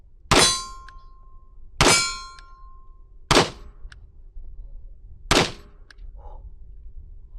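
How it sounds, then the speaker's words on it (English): A Taurus TH10 10mm pistol fires four loud, separate shots about a second and a half apart, each a sharp blast with a brief metallic ring trailing after, outdoors and without talk. "we are ready to shoot. First shot."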